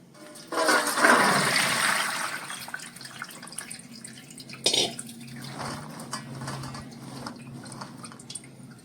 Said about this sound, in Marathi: ह्या चाळणीमध्ये थोडा वेळ निथळत ठेवणार